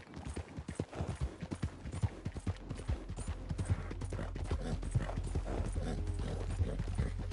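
Horse hooves in Red Dead Redemption 2 clip-clop in a steady, rhythmic trot over a low rumble. The hoofbeats sound loud and close, with no speech over them.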